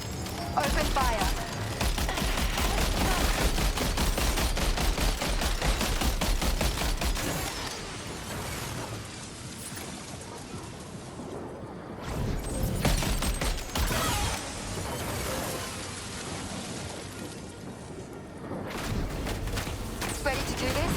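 Dense, sustained gunfire from the video game Death Stranding 2, loud bursts with sharp impacts that ease and surge again, mixed with game sounds and voices throughout.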